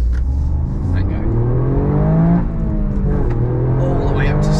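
A Toyota GR Yaris engine revving hard toward 7,000 rpm, rising in pitch through a long pull, heard from inside the car under someone talking.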